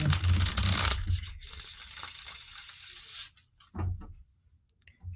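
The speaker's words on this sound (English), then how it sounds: "I'm shuffling them up really good, right?" A deck of tarot cards being shuffled, a dense papery rustling and riffling that runs for about three seconds, then thins into a few softer scattered shuffles and taps, close by in a quiet room.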